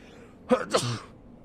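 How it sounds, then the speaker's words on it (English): A single short, sharp sneeze burst in a quiet room, close and moderately loud, with nothing else around it. "Hooray for sneezing."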